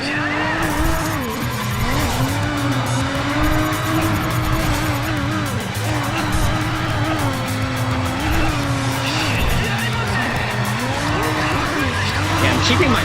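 Race car drifting in the Race Driver GRID video game, with a steady engine drone rising and falling in pitch and tires squealing through the slides, all at a constant loud level with a voice talking over it.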